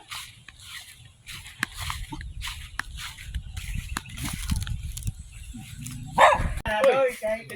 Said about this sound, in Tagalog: Tinatawag tayo ng aso